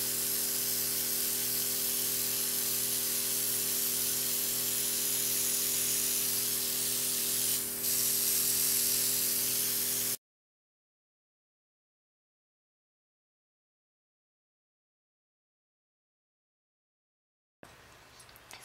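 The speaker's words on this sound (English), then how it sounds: "So that's pretty much it for the airbrush." An airbrush sprays makeup foundation in a steady, continuous hiss for about ten seconds, then cuts to silence before a brief return of sound at the end.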